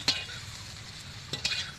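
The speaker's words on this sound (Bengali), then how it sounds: "এবারে আমি তুলবো বিট ভাজা" Beetroot slices fry in a pan with a soft, steady sizzle, broken by a few sharp clicks and scrapes from a utensil lifting the pieces out, close and unaccompanied by talk.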